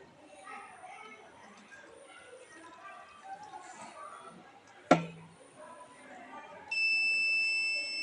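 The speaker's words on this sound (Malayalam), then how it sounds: "അങ്ങനെ അലാറം മുഴങ്ങുകയും സർക്യൂട്ട് പൂർത്തിയാവുകയും ചെയ്യുന്നു." A voice talks quietly, a sharp click sounds as a float switch in a filling water tank closes the circuit, then a steady high-pitched electronic alarm buzzer starts and keeps sounding.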